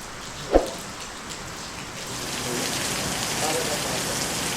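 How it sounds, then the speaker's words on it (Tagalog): Heavy rain pours steadily, a broad hiss that thickens over the clip, with a brief louder knock near the start. Nobody speaks. "Lakas ng ulan"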